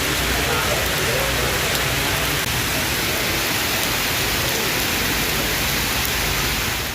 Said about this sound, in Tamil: வேலூர் மாவட்டத்தின் பெரும்பாலான பகுதிகளிலும் கனமழை கொட்டி தீர்த்தது.